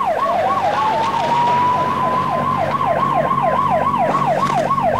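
An ambulance siren wails continuously at close range, loud and steady, its rising-and-falling yelp cycling rapidly over a low rumbling background at a wrestling event.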